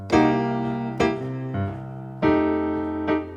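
Piano groove from a low C with a ghost note on the and of beat 3: five or six close, clear chord strikes in an uneven rhythm, alternating louder hits with softer ones, each ringing briefly before the next.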